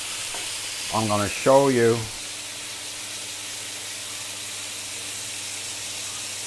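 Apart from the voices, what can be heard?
ribeye steaks searing in a pan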